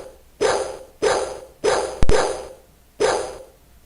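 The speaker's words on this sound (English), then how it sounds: "In the faraway distance, you hear the malicious barking of an unfriendly dog." A dog barks five times at an even pace in a text adventure game set in a haunted mansion on a Macintosh Plus. The barks are loud, harsh and gruff, each one fading quickly, with no voices.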